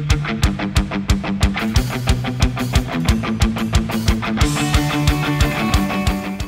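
A full music mix drenched in excessive reverb: rhythmic drum hits and sustained tones smear into a washy, cluttered tail, playing loud and steady with no voice.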